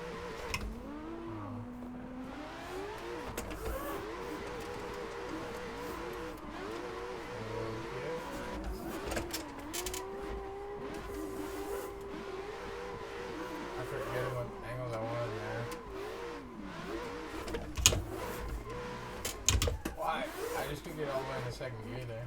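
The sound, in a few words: car engine accelerating through gears in video game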